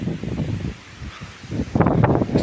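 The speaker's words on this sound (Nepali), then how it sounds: "हावाले पात सब उडाइरहेछ, रुख सब हल्लिरहेछ" Strong storm wind gusting through trees in Nepal, shaking branches and rustling leaves in rough, uneven surges that swell louder toward the end.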